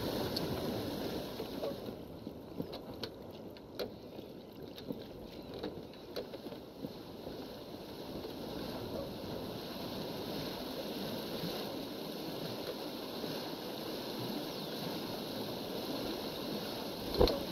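A sailing boat moving over water in the Pancake Sailor video game, a steady soft wash of water and wind rushing past the hull, continuous and calm with no voices.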